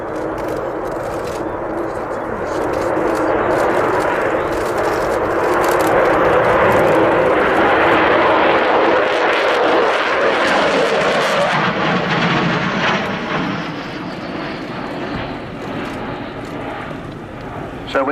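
The Avro Vulcan XH558 jet bomber roars past during a flying display, its engine noise building to a loud, close peak and then falling away with a shifting pitch. Speech can be heard under the noise.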